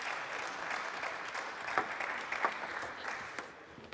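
Spectators at a table tennis final at the Qatar Open applaud in the arena, a fairly soft, steady patter of clapping heard from a distance, with a couple of sharper ball or paddle knocks cutting through.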